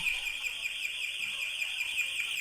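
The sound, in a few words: intrusion alarm going off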